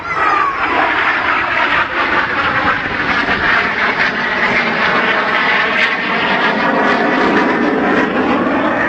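A YAK-130 jet trainer flying a display at an air show roars steadily and loudly overhead, with a continuous broadband jet engine rush that holds through the whole clip without pause.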